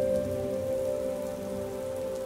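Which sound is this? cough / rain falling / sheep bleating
rain falling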